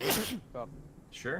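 A single sharp sneeze bursts out near the microphone amid voice chat during an Arma 3 military squad operation, followed by brief talk from other players.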